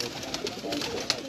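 A show pigeon gives a brief coo at close range against a busy, noisy background.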